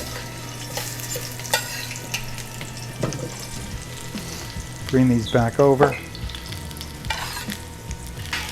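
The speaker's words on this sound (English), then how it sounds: "you can hear that nice sizzle" Steady sizzling of heavy cream reducing in a pan with occasional stirring scrapes, and a brief spoken phrase breaking in midway.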